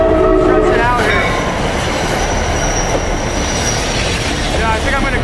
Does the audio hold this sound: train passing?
yes